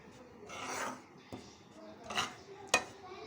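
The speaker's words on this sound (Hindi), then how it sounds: "अच्छी तरीके से इसकी भुनाई हो रही है।" Wheat flour roasting in a pan for aate ka halwa, stirred with a spoon that gives soft scraping rasps and a few sharp clinks against the metal, close up with no talking.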